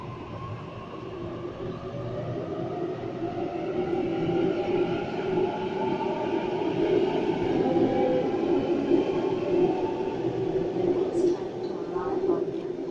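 A Sydney suburban train pulls out of a station on the Hornsby service, a steady low rumble and rolling hum that builds gradually and holds at moderate loudness, with a faint high squeal near the end and a voice speaking over it.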